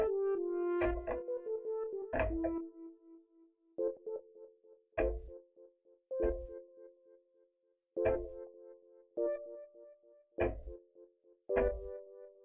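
Brassy synth chords from a stock brass swell patch in FL Studio, played in separate stabs, each swelling in and fading with a short tail, roughly eight hits spaced over several seconds with no talking.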